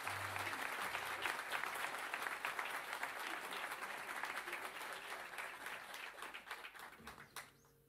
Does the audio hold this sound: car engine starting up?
no